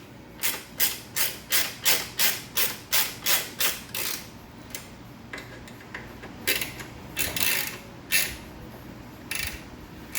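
A 3/16 hex key tightens Loctite-coated screws on a Ram Air Fast Up tank, giving a close run of about ten quick, evenly spaced ratcheting clicks, then slower, irregular clicks and scrapes with no talk.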